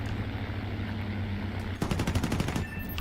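Machine gun fire from .50 cal guns in the War Thunder video game: a fast rapid burst of loud, evenly spaced shots that starts abruptly after a quiet stretch of engine rumble and lasts under a second.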